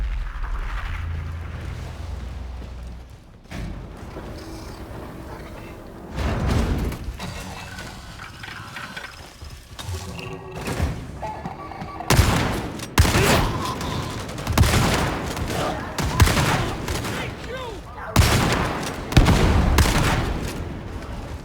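Warhammer 40K Darktide combat, a grenade going off amid gunfire: loud booming blasts and rapid bursts of shots come in irregular clusters throughout, with quieter rumbling gaps between them.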